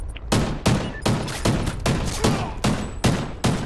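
Gunfire in Call of Duty Ghosts: a string of about eight loud, evenly spaced shots roughly every half second, sharp and close with ringing tails between them.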